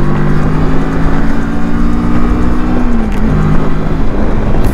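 A motorcycle engine drones loud and close, with its pitch rising steadily as it accelerates hard along the road and a slight dip near the end.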